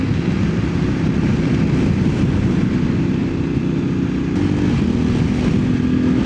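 A Voge DS900X adventure motorcycle pulls hard with a steady, loud engine drone under wind noise, then the pitch dips briefly as the quick shifter snaps up into third before the revs climb again.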